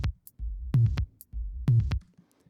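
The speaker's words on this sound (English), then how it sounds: "it is Deep Tom Topper, which is just another one of these stock sounds." Deep Tom Topper stock drum sound from Logic Pro, left unprocessed, for minimal techno: a low, booming tom hit repeating in a steady two-beat pattern with short bright ticks between, close and clean with no talking.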